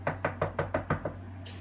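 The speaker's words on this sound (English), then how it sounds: "Luigi, get the door" Seven evenly spaced knocks on a door sound in a quick steady rhythm, close and moderately loud over a low constant hum, ending with a faint hiss.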